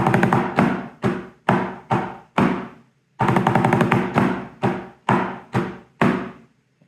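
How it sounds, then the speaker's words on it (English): A snare drum plays the British Drummer's Call as a historic military rudiment, a right-hand flam and then a triplet nine. Crisp, close strokes come in short bursts with a brief pause partway through, and no one speaks. "So your triplet 9 begins on the beat. So we play that first phrase."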